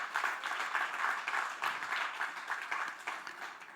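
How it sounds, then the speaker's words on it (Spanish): A congregation at a Spanish-language church worship service applauds in a moderate, rolling burst of many hands clapping together, swelling and easing in waves across the whole stretch. "darle un aplauso al Señor, claro que sí, déselo bien grande"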